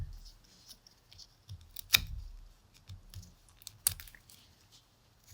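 Hazelnut shells crack in a small frame, two sharp, close snaps about two seconds apart with faint handling rustles in between.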